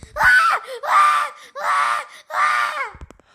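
A child screams in four long, loud, close bursts with short gaps between them, each a high, strained wail, while running around a house.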